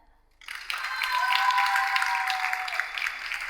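Studio audience at a French TV dating show applauding a couple, clapping bursting in after a brief quiet and holding strong and dense for about three seconds.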